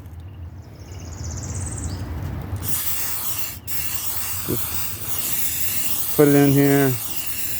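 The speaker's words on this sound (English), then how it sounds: "Now I'm just using this 2-in-1 fillable sander primer. I'm going to start off with a light coat here." Primer hisses steadily from a spray can onto a 2004 Kia Spectra right fender in light back-and-forth coats, with someone talking briefly over the spray.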